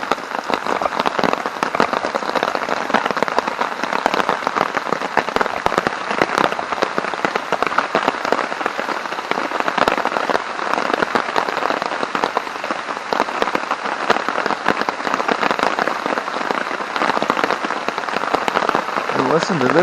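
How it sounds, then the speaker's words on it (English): Heavy, constant rain drumming on a tent porch in the woods, dense patter of drops filling the whole stretch, close and loud with no pauses. "listen to this rain from our little porch in the woods"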